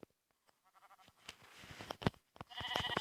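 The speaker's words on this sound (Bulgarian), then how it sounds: "Намерих една овца." Sheep bleating in a survival video game, a run of several wavering bleats that build in loudness toward the end, with no talk over them.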